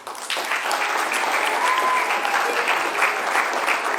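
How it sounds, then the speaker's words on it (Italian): Applause rises for the Virtus Entella football team and coach Fabio Gallo on a sports broadcast, a steady, moderately loud round of clapping that starts after a quiet moment and holds to the end. "un applauso che arriva alla Virtus Entella, a tutta la squadra, ma anche al mister, Fabio Gallo"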